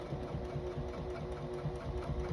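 A sewing machine runs a decorative top stitch on a makeup bag at stitch length 3, humming in a steady, even mechanical whir with a fine rhythmic pulse, close and continuous, with no voices.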